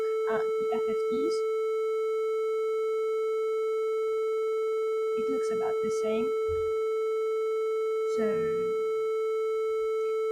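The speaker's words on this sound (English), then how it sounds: "triangle waves are quite similar to sine waves, or at least that's how my computer reproduces them" A steady triangle-wave test tone from a DEWESoft DAQ tone generator hums continuously at an even level, while someone speaks over it in short bursts.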